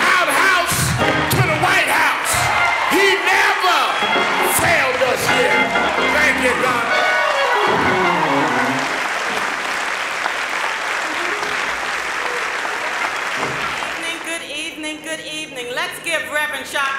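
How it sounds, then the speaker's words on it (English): Church congregation at a Portsmouth, Virginia service cheers, whoops and applauds loudly and steadily for a keynote preacher, with shouting voices mixed into the sustained clapping. "Reverend Sharpton, another round of applause"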